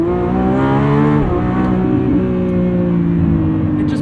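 A 2025 Lamborghini Revuelto, a 1,001 hp V12 hybrid, pulls hard under acceleration, its loud engine note climbing steadily in pitch with a brief dip around a gear change before rising again, heard from inside the car.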